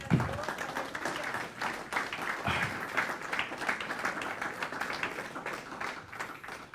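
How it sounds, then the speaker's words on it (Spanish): A church congregation applauds during a Spanish-language sermon, a moderately faint, continuous patter of many hands clapping with a few louder thumps. "Dale una ofrenda de palmas al que vive."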